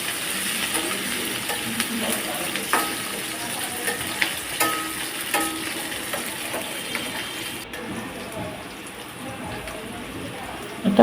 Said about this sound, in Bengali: সেটাও দিয়ে ভালোভাবে পেঁয়াজ, কাঁচামরিচ এবং রসুন দিয়ে ভালোভাবে ভেজে নেব।